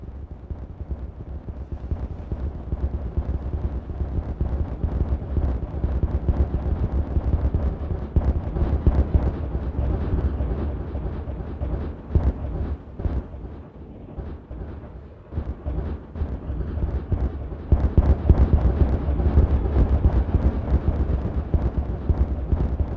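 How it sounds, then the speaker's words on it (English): Explosions in the video game Timberborn, a dense series of rumbling booms and crackling blasts rolling continuously over about twenty seconds, loud with no talk. "we haven't had nearly enough explosions for this episode"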